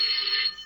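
A telephone rings with a steady, bright electronic trill that holds for about half a second, then cuts off into quiet room tone.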